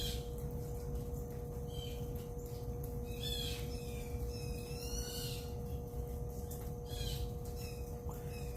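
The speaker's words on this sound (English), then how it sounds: "Can you guys hear all the birds?" Birds chirp outdoors in the early evening, with faint, distant short calls scattered over a constant low hum and background hiss.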